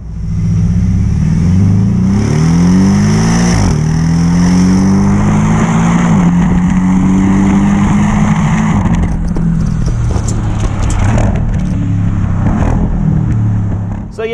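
A Porsche 718 Boxster GTS flat-four with a Milltek exhaust revs loudly and close up, the deep bassy burble rising and falling through repeated sweeps before settling into a rumbling idle.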